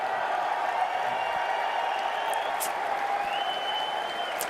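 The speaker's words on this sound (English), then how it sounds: "Do you guys hear this applause?" Sustained, dense applause from a large crowd, steady and continuous throughout with a few faint whistles on top.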